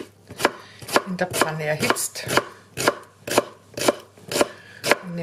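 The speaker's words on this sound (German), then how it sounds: "Nehmen wir mal den geschälten Zwiebel und den schneide ich einfach blättrig" Knife chopping a peeled onion into thin slices on a cutting board, a steady series of sharp, close cuts about every half second, with a little kitchen background.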